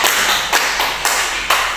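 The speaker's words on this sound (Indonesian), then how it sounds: "Mari kita tepuk tangan." A school class claps for a student group after its presentation in an Indonesian classroom, a few sharp claps in an even rhythm about half a second apart over a light background hum.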